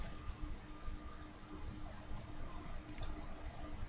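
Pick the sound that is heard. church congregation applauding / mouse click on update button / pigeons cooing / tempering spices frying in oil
mouse click on update button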